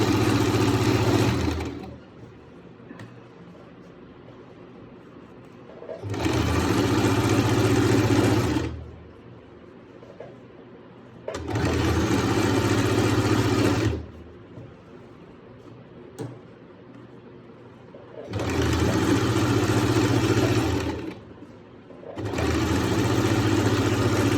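Electric sewing machine stitching salwar fabric, with four or five loud bursts of fast motor whirring and needle chatter separated by quieter pauses of low machine hum.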